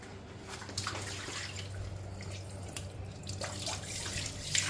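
Running tap water flows steadily while greasy dishes are rinsed and washed at a sink, with occasional clinks and splashes close by.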